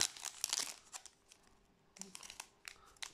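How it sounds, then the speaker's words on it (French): A trading card booster pack wrapper from the Amazing Defenders set is torn open in close, crisp bursts of crinkling and ripping foil, with quieter pauses between the tugs. "je vais essayer d'en ouvrir un"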